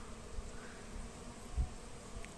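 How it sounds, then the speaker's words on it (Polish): A soft, steady buzz of honeybees around a flowering Japanese quince shrub hums close by, faint and continuous with no voices. "A te pszczółki tutaj już od 7 rano latają"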